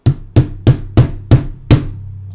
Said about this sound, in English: I'm going to hammer that down a little bit more